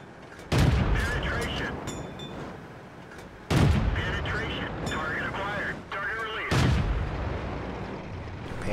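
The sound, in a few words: tank gunfire in World of Tanks video game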